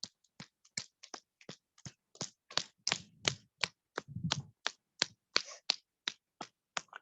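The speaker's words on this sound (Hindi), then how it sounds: "अब आपको उल्टी ताली बजानी है।" About twenty sharp, crisp claps made with the backs of the hands land in a steady, slightly uneven rhythm, each one short and close.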